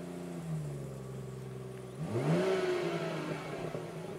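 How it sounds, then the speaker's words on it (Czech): A 2019 BMW 440i Cabrio's six-cylinder engine idles with a low, even hum, then revs up briefly and settles into a steady running drone. "Já nastartuju, ať slyšíte zvuk motoru."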